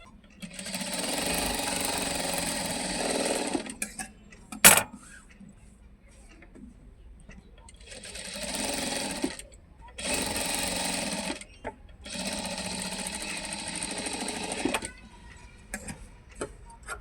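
A domestic sewing machine stitches fabric for a bow design in several bursts of steady whirring, separated by quiet pauses and a brief clunk, with no speech.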